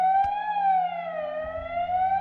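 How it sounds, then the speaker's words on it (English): A loud dam warning siren at Buford Dam signals a water release, wailing continuously, its pitch slowly dipping and rising again, with no talking. "That's the sirens."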